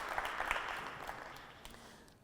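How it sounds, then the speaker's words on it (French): Audience applause for students at a televised high-school quiz competition, a steady wash of many hands clapping that fades gradually toward the end. "Applaudissements pour les élèves."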